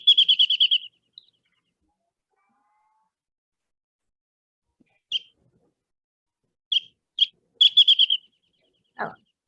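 A wrentit from California sings a quick series of bright, accelerating notes, followed by silence and a few sparse repeated bursts of the same trill.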